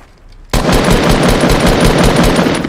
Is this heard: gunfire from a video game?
yes